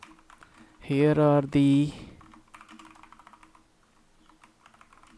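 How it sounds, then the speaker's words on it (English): Computer keyboard typing while entering commands for a Python Telegram bot, rapid light key clicks continuing steadily after a short burst of speech at the start. "I will use this one, so I can type the commands line by line"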